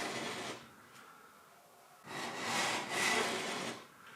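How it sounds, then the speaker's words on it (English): Wooden edges of a handmade desk being cleaned up with a hand tool, two runs of close rasping, rubbing strokes, the second longer and louder, heard without talk. "once I got the clamps off, I can clean up those edges"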